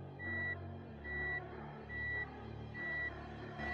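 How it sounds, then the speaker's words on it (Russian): Reverse gear warning beeps inside the cabin of a Mitsubishi Lancer 10 with automatic transmission, a repeating steady electronic tone in even pulses over a low idling engine hum, fairly quiet. "Данная функция будет сигнализировать водителя внутри автомобиля о включенной задней передаче."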